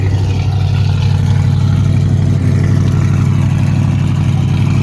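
A cold Shelby engine running loud and close, a constant deep throaty drone with a dense low rumble that holds steady, no clear rise in revs, and no voices.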